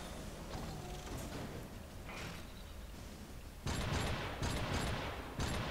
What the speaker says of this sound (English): Takes a lot of shots to take these things out. Or at least with this turret.